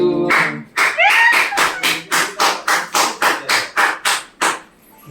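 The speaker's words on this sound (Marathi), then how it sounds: "गुरुजींनी टाळ्या वाजवल्यात" A group claps for a birthday in a steady run of about a dozen sharp, evenly spaced claps, loud and close, following a brief bird-like squeak near the start.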